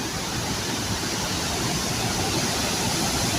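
Dudhsagar waterfall in Goa roars as a constant, dense broadband rush of falling water, steady and loud for the whole stretch with no voices.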